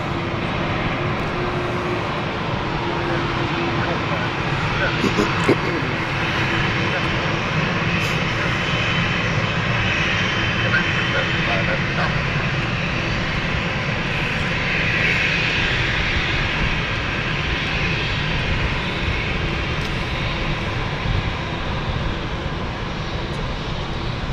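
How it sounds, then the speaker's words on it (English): A passenger jet bound for Zurich at London City Airport produces a sustained engine roar that stays broad and steady throughout, with no voices over it. "Here goes the Zurich flight."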